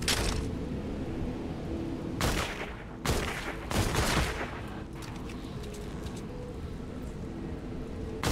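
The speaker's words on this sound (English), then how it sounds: "It shoots firecrackers." Firecrackers go off in an Xbox One video game in several loud crackling bursts of rapid pops, separated by short gaps.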